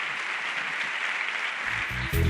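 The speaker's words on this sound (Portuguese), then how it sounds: "Uma salva de palmas para o Senhor" A church congregation applauds for the Lord, giving a steady wash of clapping from many hands. Near the end, a few sharp, tonal bursts break in over the applause.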